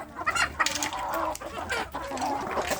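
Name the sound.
kampung chickens clucking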